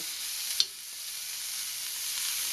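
Pork and string beans fry in a shallow layer of oil in a pan, giving a steady, close hiss of sizzling with one brief clack of a utensil early on.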